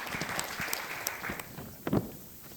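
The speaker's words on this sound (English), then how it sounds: "So you got two claps." A small audience at a promotional products industry panel gives sparse, scattered clapping, a few separate claps spread over a couple of seconds in a fairly quiet room.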